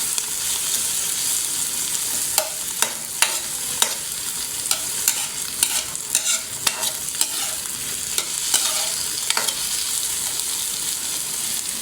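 Onion, garlic, ginger and tomato sauté in a hot pan with a steady bright sizzle, while a utensil stirs and scrapes with repeated sharp clicks throughout.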